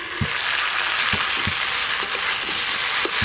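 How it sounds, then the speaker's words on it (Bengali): Potatoes and cauliflower frying in a pan, a steady bright sizzle throughout with several soft low knocks of stirring scattered across, close and fairly loud with no talk. "দেখতে দেখতে এদিকে আলু ফুলকপি ভালো করে ভাজা হয়ে গেছে"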